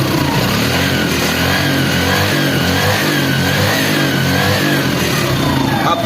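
A motorcycle engine started with a single kick revs under the throttle, a loud, continuous buzzing drone with rising and falling pitch and no voices.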